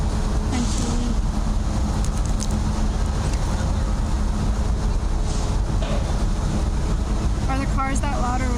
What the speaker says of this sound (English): there is a bridge highway and there's a leaf blower.